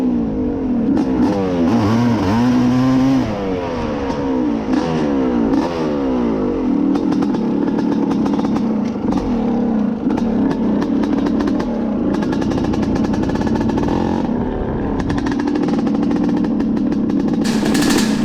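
A worn 1985 Honda CR500 two-stroke motorcycle engine revs hard and loud, rising and falling through repeated throttle blips with a raspy, crackling exhaust close by throughout.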